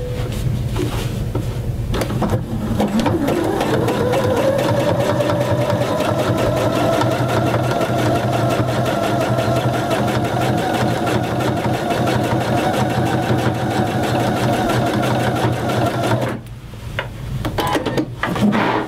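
A sewing machine zigzag-stitches down the center of rickrack trim on a fabric tulip, running steadily and loudly at an even whirring pace for most of the time, then briefly pausing before starting again.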